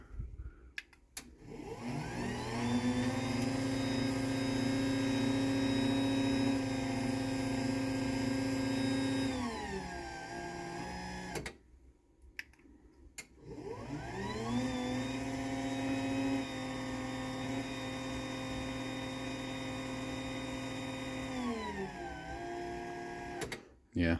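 LiftMaster 84501 garage door opener driving a small mini door: a steady humming motor drone that runs for about nine seconds, winds down, stops briefly, then starts and runs a second full cycle before cutting off.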